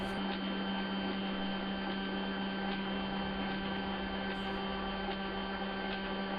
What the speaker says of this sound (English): This is the same printer noise that I hear at work.